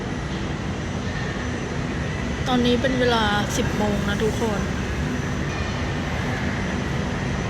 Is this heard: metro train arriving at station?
yes